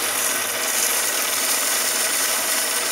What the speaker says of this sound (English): using the coarser sandpaper on this to get it started works better